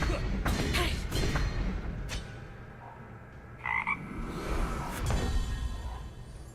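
Frog croaking effect from a digital card game, a few bursts of croaks and thumps over steady background music, fairly close and clear.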